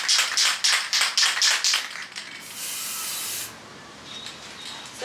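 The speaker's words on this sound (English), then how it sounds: "So I'm gonna spray it while it's still up, so that way I can hopefully get it right." A spray can mists paint onto a decoration for a snowy Christmas effect, giving several short rhythmic hissing bursts followed by one longer steady spray, close and clear with no talking.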